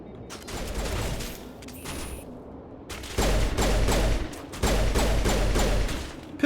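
Pistol fire in the game Mass Effect comes in sustained bursts of rapid, loud shots. Brief quieter gaps and a short pause separate the bursts, and no one speaks.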